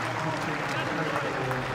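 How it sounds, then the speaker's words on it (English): A crowd in the enclosures at Henley Royal Regatta 2024 applauds a rower in the Diamonds sculls semi-final. The clapping forms a steady, distant wash, with a commentator talking over it. "he comes down to that applause of the crowd"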